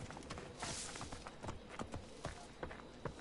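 Horse hooves clip-clopping in the video game Assassin's Creed Origins, a steady run of quick, distinct hoofbeats over a soft background wash, moderately close.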